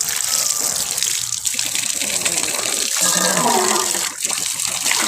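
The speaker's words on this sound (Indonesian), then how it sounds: "Godhongnya tak cuci dhisik." Leaves being washed under a running tap, with a loud, continuous splash and gush of water throughout.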